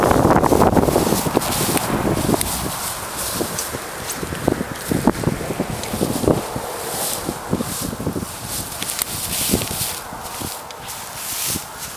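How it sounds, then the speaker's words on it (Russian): Strong wind buffets the microphone during a fishing outing, a constant roaring rush with scattered rustles and knocks, no speech. "Ветер большой"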